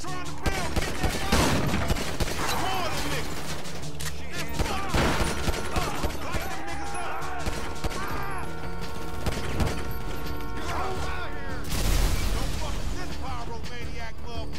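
Rapid bursts of automatic gunfire in GTA V as Franklin, sustained and loud across a chaotic firefight, with crashes, impacts and shouted voices mixed throughout.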